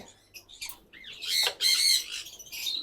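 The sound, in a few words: pet parrots squawking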